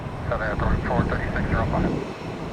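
American airliner at Tampa airport taxiing and rolling for takeoff, a steady continuous engine roar throughout, fairly close, with people talking over it.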